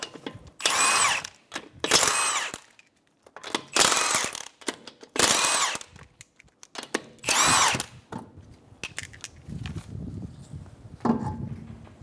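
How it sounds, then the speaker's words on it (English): Impact wrench or power drill bursts loosening the 19mm front wheel lug nuts on a 2012-2016 Subaru Impreza: six loud, close whirring spurts of one to two seconds with short pauses, then quieter clinks and handling noise. "Remove your front wheel. I'm going to use a 19mm socket."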